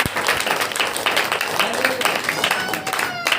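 A church congregation clapping hands at a Saturday prayer meeting, fast rhythmic claps filling the room under a preacher's loud voice.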